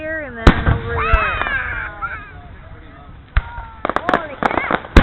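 Fireworks at a town display in St. Marys, Pennsylvania, thud and crack in scattered bursts, some sharp and close, amid crowd chatter and exclamations from nearby onlookers.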